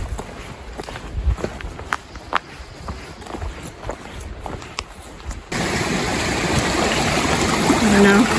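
Footsteps splash and crunch through a flowing creek on a forest trail near North Coldwater Creek; uneven steps come first, then the rush of water swells loud and steady as the walker enters the stream.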